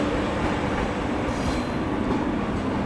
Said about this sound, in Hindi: ये था हमारा राजस्थान की इकलौती शताब्दी एक्सप्रेस में न्यू दिल्ली से अजमेर तक का सफ़र